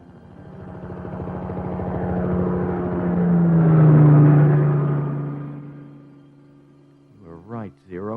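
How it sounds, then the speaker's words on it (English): An XK-20 helicopter approaching, a rotor rumble building steadily to a loud close peak and then fading away, followed by a brief burst of voice at the end. "Listen. Chopper."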